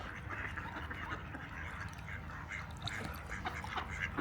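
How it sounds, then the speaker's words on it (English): Ducks and geese quacking and honking at a seaside town waterside, a busy, steady chorus of overlapping calls from a flock nearby, with no talk. "More geese and ducks."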